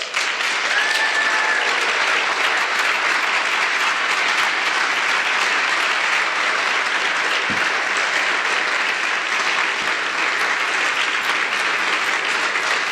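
Sustained, dense audience applause at a talk on fighting pornography, loud and steady throughout with no break, a large crowd clapping together.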